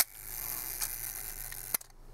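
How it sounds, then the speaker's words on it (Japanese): A Rolleiflex 3.5F twin-lens camera with Xenotar 75mm f/3.5 lens fires its shutter at one second, a sharp mechanical click, then quiet room tone, then a second click closing the exposure. "シャッターは低速1秒から見ていきましょう。"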